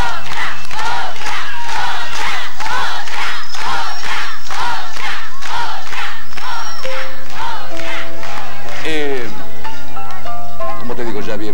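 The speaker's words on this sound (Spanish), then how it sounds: "Un aplauso para el maestro." A TV studio audience on a 1992 Rosario variety show claps and cheers in loud rhythmic bursts, with voices chanting over it before music begins.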